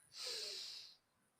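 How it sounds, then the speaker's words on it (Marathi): A single deep inhaled breath drawn through the nose during a yoga breathing exercise, a close, airy rush lasting under a second, then quiet. "पुन्हा एकदा दीर्घ श्वास घ्या"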